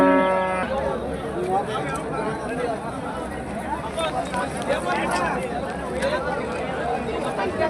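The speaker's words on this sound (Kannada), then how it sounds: "ಎಚ್ ಎಫ್ ಕರು ಇದೆ ಅನ್ಸುತ್ತೆ" A Holstein Friesian calf moos at a cattle market in Honnali, with rain falling and farmers talking nearby. A crowd chatters throughout and covers the animal's calls.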